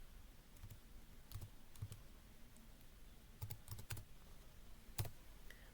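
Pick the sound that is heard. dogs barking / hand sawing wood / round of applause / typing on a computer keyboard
typing on a computer keyboard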